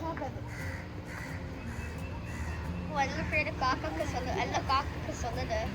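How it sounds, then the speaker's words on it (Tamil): Crows caw repeatedly in the second half, harsh calls over steady outdoor background noise in India, with voices in the background. "காக்கா வந்து சூப்பரா உட்காந்து சாப்பிடுது."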